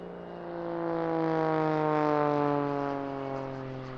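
An aerobatic display aircraft dives into a turn with smoke on at the Eastbourne International Airshow, its engine a loud, sustained harmonic drone that swells and slowly shifts in pitch as it passes, with no talk over it.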